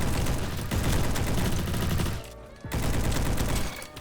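SCAR rifle fire in a video game, rapid continuous bursts, loud and dense, with a brief pause before a second volley; no voices.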